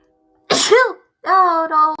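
A single sharp, close sneeze bursts out loudly, followed a moment later by a short voiced exclamation.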